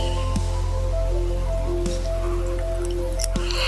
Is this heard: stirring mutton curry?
yes